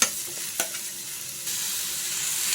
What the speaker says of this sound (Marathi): आता कांदे छानपैकी गुलाबी रंगावर थोडेसे ब्राऊन सारखे झाले की मग कांदे काढून घ्यायचे भाजून